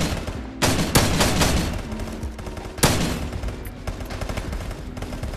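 Gunfire in the VR shooter Contractors VR on its MW2 update: a loud, dense automatic burst that runs through most of the stretch, with sharper single cracks standing out near the start and the middle.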